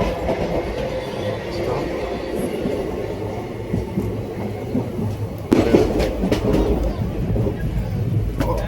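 Interior rumble of the 17406 Krishna Express passenger train in motion between Adilabad and Tirupati, a steady low roar with faint rattling, growing louder and busier with clatter from about halfway through.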